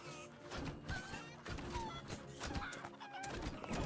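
Chickens clucking and squawking in the video game Rumble, a busy continuous flock of bird calls with game effects mixed in, steady and moderately loud throughout.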